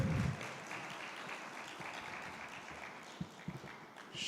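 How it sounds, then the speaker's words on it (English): Forum audience giving a hand clap for a panelist being introduced, a faint, steady patter of clapping heard from a distance that carries through the whole stretch with a few sharper claps near the end. "Please give a hand clap"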